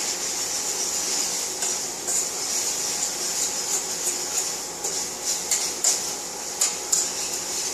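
A microwave oven runs inside a truck's cab while eggs cook, giving a steady, even whirring hum with a few light clicks and rattles toward the end and no voices.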